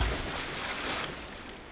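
A character falls into water in the dungeon game Legend of Grimrock 2, producing a steady, rushing watery wash that starts strongly and slowly fades.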